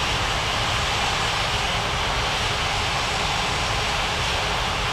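Aircraft engine noise in an air traffic control game, a loud continuous broadband jet roar that holds steady throughout as a plane taxis toward the gates.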